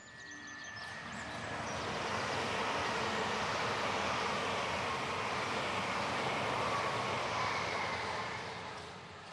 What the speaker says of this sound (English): Love a train.